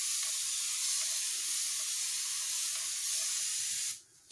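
Cold water sprays in a steady, loud hiss that runs evenly, then cuts off abruptly near the end.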